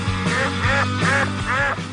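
A duck quacks four times in a row, with a loud, nasal, evenly spaced call that is close by and clear, and no other sounds or voices around it.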